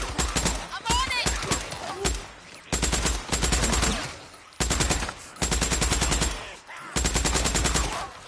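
Bursts of rapid automatic gunfire from a gun in Days Gone come close and loud. Several long strings of fast shots are broken by short gaps, and a few short voices cut in between bursts.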